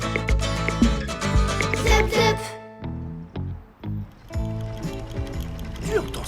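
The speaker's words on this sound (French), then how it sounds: "On dirait que le moteur est fatigué" A tired cartoon engine sputters and clanks in a rhythmic, mechanical run of knocks and ratcheting pops, fairly loud and close, blended with tonal cartoon sounds.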